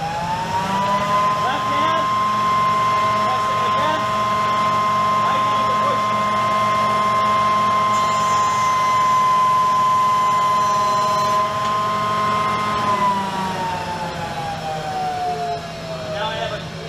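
A woodworking jointer spins up and runs at speed, a steady high motor whine over a broad mechanical hum that holds evenly before easing slightly near the end.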